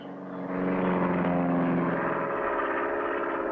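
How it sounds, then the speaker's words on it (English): A small propeller plane's engine revs up for takeoff in a cartoon, a steady droning hum that swells loud after the first half second and holds near and strong. "let's get this plane in the air"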